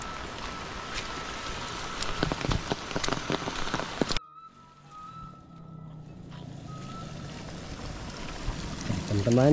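Dense, steady rain pattering hard on a surface in an Indonesian village during rice-planting season, a loud continuous wash that briefly drops away then returns more softly with faint background noise.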